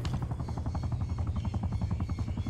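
Military helicopter in the video game Black Ops Cold War, a steady low rotor chop with a fast rhythmic thump throughout, loud and close, with no talk over it.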